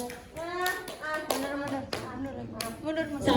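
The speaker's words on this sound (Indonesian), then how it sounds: "Beri tepuk tangan yang meriah kepada kelompok Gairah Malam" An audience at a student acting exam performance claps for a performing group, with sharp, uneven hand claps under loud overlapping voices that sound like cheering or singing.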